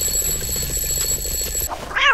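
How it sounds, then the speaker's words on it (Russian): An alarm clock in the Roblox game Doors, set in a mine area, rings with a rapid repeating electronic trill for nearly two seconds, then cuts off before a brief squeaky sound. "я ставлю тебе будильник, пожалуйста, очнись вместе с ним"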